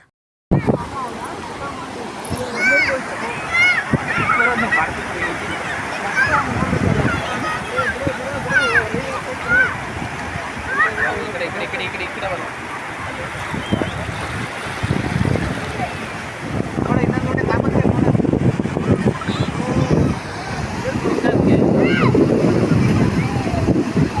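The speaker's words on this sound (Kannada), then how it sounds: "ಸಂಜೆ ಆದಂಗೂ ಅಲೆಗಳ ಅಬ್ಬರ ಜಾಸ್ತಿ ಇರುತ್ತೆ, ನೀರಿನ ಹರಿವು ಜಾಸ್ತಿ ಇರುತ್ತೆ" Evening ocean waves crash and surge on Someshwar beach during a beach festival, a continuous rumbling wash with wind buffeting the microphone and people talking over it, growing heavier toward the end.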